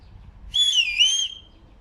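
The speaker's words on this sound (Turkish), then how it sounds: "Düdük çok önemli." A single high, pure whistle tone sustained for under a second, with a slight pitch dip in the middle, heard against quiet low background rumble, blown as an emergency signal while hunting.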